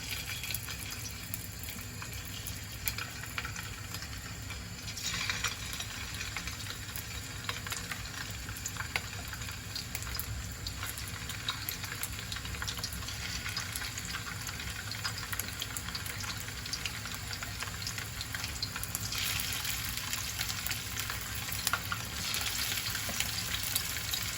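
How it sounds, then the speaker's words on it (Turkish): Meatballs frying in oil in a pan for a Turkish yogurt soup, a continuous close crackling sizzle with occasional faint stirring, steady throughout with no talk. "Kaynayana kadar köfteleri kızartacağım."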